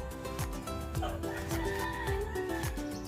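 Rhode Island Red cross broiler chickens cluck in a series of short, repeated calls that sit close and clear over a steady farmyard background, with no talking.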